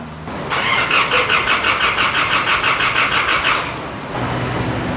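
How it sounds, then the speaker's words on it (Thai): A car engine, just reassembled after a full teardown, cranks with a rapid rhythmic churning for several seconds, then settles into a lower steady running rumble. "คันนี้เราประกอบพร้อม สตาร์ทเครื่องยนต์แล้วนะครับ เอาลองดู"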